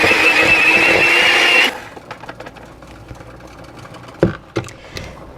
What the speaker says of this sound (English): I'm just going to break up my eggs a little bit with the beaters, and I'm going to mix all of that up until it's smooth.